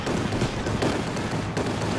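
Strafing-run gunfire in the strategy game Company of Heroes 2, a dense rattle of rapid shots and crackling impacts over a busy battle mix, with no one speaking.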